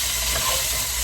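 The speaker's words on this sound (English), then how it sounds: "I'm just going to saute this up so it's got a good color on it" A brief, steady hiss and sizzle rises from a pan where food sautés with garlic powder, loud and continuous with no talking.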